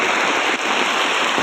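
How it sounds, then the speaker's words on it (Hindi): Heavy monsoon rain pours steadily at an outdoor Congress protest sit-in in Panna, a loud, dense, unbroken hiss of drops on surfaces with no voices. "इस बारिश में भी"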